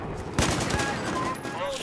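Gunfire in Battlefield 4 multiplayer on Xbox One: a sharp, loud shot followed by a rapid burst of quicker cracks, set against faint battlefield noise.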